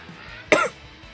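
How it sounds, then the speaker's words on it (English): A single short, sharp human cough bursts out close by, with quiet room tone before and after. "Sorry, I'm coughing."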